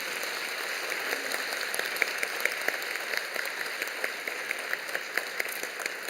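A church congregation gives light, steady applause to newly appointed Sunday school teachers at a ceremony; the clapping is moderately quiet and even, with a few sharper claps standing out.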